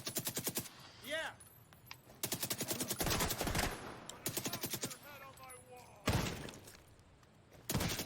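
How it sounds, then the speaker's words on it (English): Rapid bursts of light machine gun fire in The Division 2 video game, several loud sustained volleys with brief gaps, plus explosive thuds and a voice speaking between shots. "I'm running out of ammo for my LMG here."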